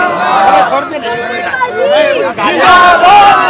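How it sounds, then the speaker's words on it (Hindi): A dense crowd at a Congress party rally raises chanted slogans, with voices swelling in waves, children among them. The chanting is loud and close, and it carries on under a reporter talking over it. "कांग्रेस पार्टी को लेकर नारे देख सकते हैं आप, नारे सुन सकते हैं।"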